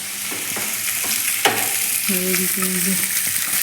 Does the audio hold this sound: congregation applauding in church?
no